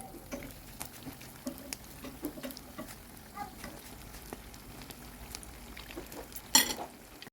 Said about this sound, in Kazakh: Қызып тұрған майға картоптарымызды салып, орташа отта екі жағын қуырып аламыз.